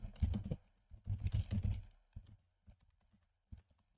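Quick bursts of keystrokes on a computer keyboard, clustered clicking at the start then sparser taps with pauses, close and fairly soft.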